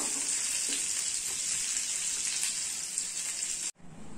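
Hot tempering with curry leaves poured into a pot of ven pongal, a loud, bright sizzle that crackles steadily for several seconds before stopping sharply.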